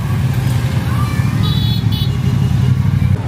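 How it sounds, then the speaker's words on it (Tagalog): Dense street traffic in Sapa, Vietnam, dominated by motorbike engines: a steady, loud low rumble of passing motors with a couple of faint horn beeps over it, continuing throughout. "Ganyan ang mga motor dito."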